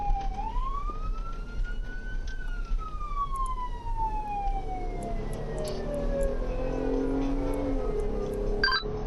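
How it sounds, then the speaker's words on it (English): A police siren in Sioux Falls wails from some distance, its tone rising then slowly falling in a long sweep, over a constant low hum and faint background noise. "just verifying you're hearing the siren right now, correct?"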